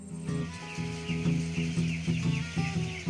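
Thousands of week-old chickens cluck and peep inside a large poultry barn, a dense steady chorus of repeated calls over a low hum of ventilation fans.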